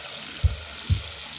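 Warm tap water runs steadily into a sink while mochi squishies are cleaned, a soft even splash with two brief low bumps of handling.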